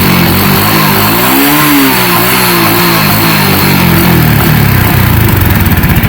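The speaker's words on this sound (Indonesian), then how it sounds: "Nah kita gas tinggi ini nggak ada berebet sama sekali." A motorcycle engine with a freshly repaired carburetor revs steadily at high RPM, loud and close, its pitch dipping and climbing again without any stutter or misfire.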